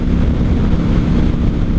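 Heavy roaring wind buffeting the microphone while riding a 1995 Honda Shadow VLX 600 motorcycle, with a low engine rumble buried under the loud, steady rush of air.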